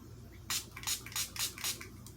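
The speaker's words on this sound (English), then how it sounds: "I am going to spray it because it does have glitter specks in it" Glitter eyeshadow being misted with a setting spray: about six quick soft hissing spritzes in an uneven rhythm, close and faint over a quiet background hum.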